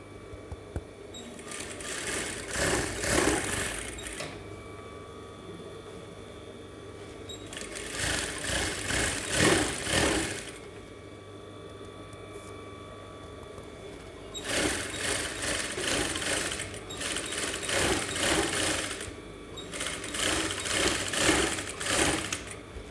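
Sewing machine stitching cap fabric pieces together along a half-inch seam allowance, running in four loud, steady whirring bursts of a few seconds each, separated by quieter pauses, with no talking.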